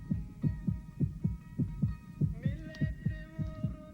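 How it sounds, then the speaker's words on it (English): Heartbeat sound effect in the Midnight Express film soundtrack, a loud, steady series of deep double-thump beats at a brisk even pace, with a sustained tonal hum rising underneath partway through. "The heartbeat, of course,"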